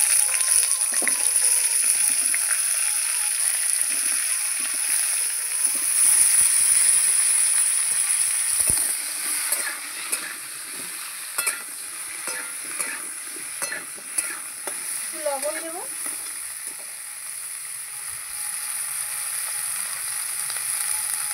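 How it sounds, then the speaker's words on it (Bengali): Cauliflower fries in a wok after fish has been cooked in it, with a continuous bright sizzle and bubbling punctuated by scattered stirring clicks; no talking. "এর কড়াইতে এবার আমি ফুলকপিটা ভেজে নেব।"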